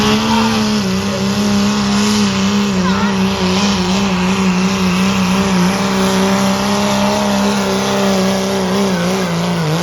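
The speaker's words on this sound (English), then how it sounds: "you'll hear her shift it from second into third" A tractor pull truck, a second-gen with a 6.7 engine swap, runs loud and close with a steady engine drone and continuous roar. There is no clearly separate gear change, and a voice speaks briefly.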